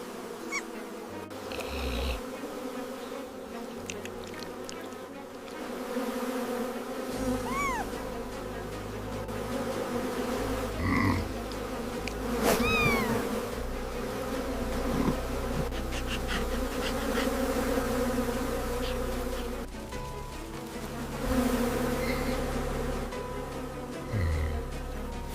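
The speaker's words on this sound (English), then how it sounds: "The cubs learn how to escape an enraged swarm of bees." Dense buzzing of an enraged swarm of bees fills the air continuously, with a few sharp chirps and rustles scattered through, fairly close.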